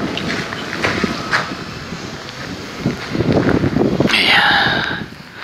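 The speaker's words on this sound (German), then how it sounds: "aber der Wind brummt hier ganz schön um die Ohren" Strong wind buffets the microphone near the Lichtenhainer waterfall in Saxon Switzerland's Elbe Sandstone Mountains, a loud continuous roar with gusts swelling and easing, and a voice talking faintly underneath.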